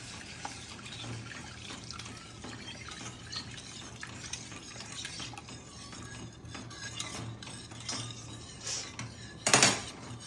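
A spoon stirs bajri raab in a pot on the stove while hot water is slowly poured in, giving soft continuous scraping and liquid swirling, a steady low hum beneath, and a sharp sizzling burst near the end.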